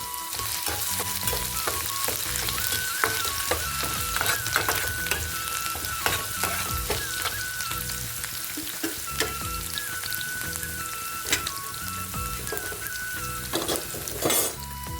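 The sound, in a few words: frying ginger garlic paste with onions in a pan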